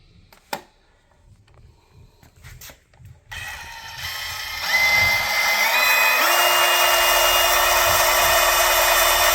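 A drill spins up without hammer mode to score hard material during a plumbing service call, starting after a few quiet clicks and rising to a steady, loud whine that climbs in pitch and holds.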